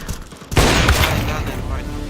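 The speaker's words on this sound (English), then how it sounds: "Throwing a grenade." A grenade explodes in Counter-Strike 2: after a brief lull, a heavy, booming blast erupts and fills the space with a broad, rumbling roar that lingers and decays slowly, loud and close.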